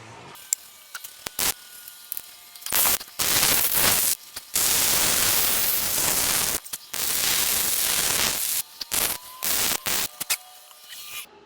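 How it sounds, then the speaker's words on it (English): Steel gusset plates being cut for a Florida livestock trailer repair: loud, harsh bursts of hissing cutting noise that start and stop in irregular stretches of one to two seconds, with short quiet gaps between. "we're going to get these plates cut out, which I'm sure you can hear in the background"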